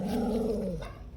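A beagle mix dog gives a short, low, rumbling growl, close and fairly loud, fading out over about a second.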